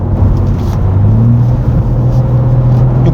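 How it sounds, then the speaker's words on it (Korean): A BMW M2 accelerates in sixth gear on a highway in M2 mode, a loud, steady low engine drone with road rumble heard from inside the cabin, continuous and unbroken. "여기 또 약간 밟을 수 있는 하이웨이가 나왔기 때문에 M2 버튼 놓고 한번 또 주행 한번 즐겨보도록 하겠습니다"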